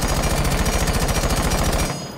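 An AK-12 fitted with a compensator in Rainbow Six Siege fires one loud, rapid, evenly spaced full-auto burst of about two seconds, then cuts off abruptly.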